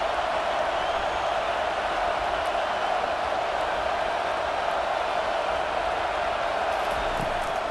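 Steady roar of a stadium crowd building on third down in a South Carolina vs Alabama college football video game, a dense continuous wash of cheering that holds loud and even throughout.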